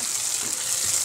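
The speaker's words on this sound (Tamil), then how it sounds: "இதில் உப்பு போட்டு நல்லா வதக்கலாம்." Eggplant pieces sautéing in oil with salt make a brief, even hiss of frying close by, with a faint stir and no voices.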